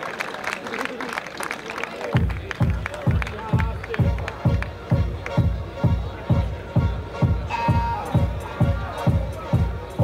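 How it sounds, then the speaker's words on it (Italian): At a boxing event, a crowd claps for boxers Gia Atenov and Valerio Marchionni, starting after two seconds as steady, rhythmic clapping in unison that carries on loudly to the end over a faint crowd murmur. "Ovviamente ancora un applauso per Gia Atenov e per Valerio Marchionni"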